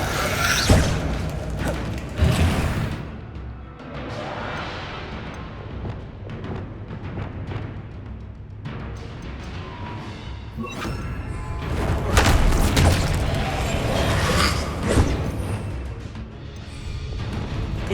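Confringo fire spells in Hogwarts Legacy set off repeated explosive blasts: heavy booms and thuds at irregular intervals over a continuous rumbling battle din, with occasional quiet speech.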